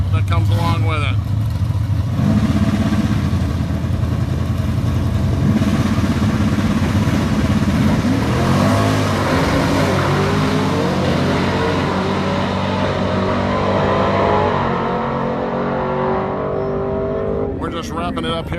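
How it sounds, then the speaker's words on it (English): Tri-Five cars drag race at the Danchuk Tri Five Nationals, their engines roaring loud and sustained as they accelerate down the strip, with the pitch climbing before fading away. "Tri-5s and drag racing and all that comes along with it."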